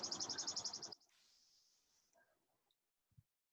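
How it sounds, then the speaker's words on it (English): Birds sing in trees near a waterfall, a quick repeated chirping trill up close, then a fainter hiss and a few soft, scattered calls. "The birds sing in the trees."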